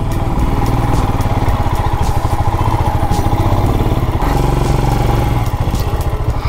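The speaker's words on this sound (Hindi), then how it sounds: "First gear, momentum. ये एक बार बाइक में लेके जा रहा हूँ ऊपर," A motorbike engine labors uphill in first gear on a mountain road in Uttarakhand, a loud, steady mid-pitched drone with a rapid throbbing pulse that holds close and constant throughout.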